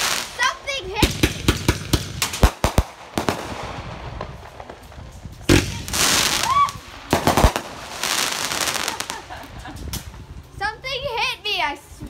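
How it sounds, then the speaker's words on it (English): Fireworks go off nearby in a series of sharp, loud cracks and pops, some in quick clusters and others spaced apart, with whistling tails and people's voices between the blasts. "A firework hit me."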